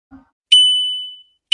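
Electronic bell chime from a student IoT project, triggered by a click: a soft tap, then one bright sustained ding that rings and fades over about a second, followed by the start of another ding, in an otherwise quiet setting.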